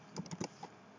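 Fingers type quickly on a computer keyboard, producing a brief, quiet run of about half a dozen light key clicks.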